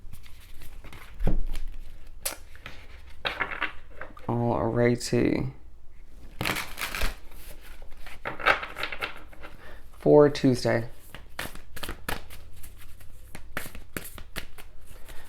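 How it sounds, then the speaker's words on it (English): Tarot cards being shuffled in several brisk riffling bursts, close up, with a person speaking briefly between them. "Let's do some shuffling and pull the Oracle."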